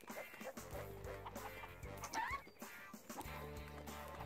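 Chickens cluck in the Shrek 2 video game's Far Far Away level, with short squawks rising over steady game music and effects.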